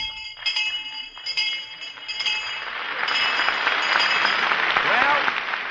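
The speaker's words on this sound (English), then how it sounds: "there's the bell, kids." On a vintage radio quiz show, a bell rings several times in quick, clear strikes. Audience applause swells behind it and then fills the rest of the clip.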